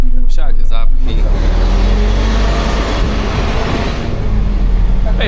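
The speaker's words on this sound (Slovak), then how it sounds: "všade zápchy." Road traffic crawls in a jam in Montenegro around Budva, heard from inside a bus, with a loud, steady engine rumble and road noise and a brief strong noise at the start.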